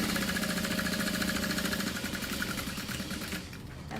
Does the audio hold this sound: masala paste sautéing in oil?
no